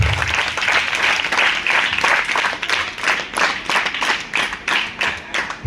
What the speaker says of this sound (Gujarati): અહીંયા વચ્ચે ઉપસ્થિત છે સર્વનું આપણે તાળીઓથી સ્વાગત કરીએ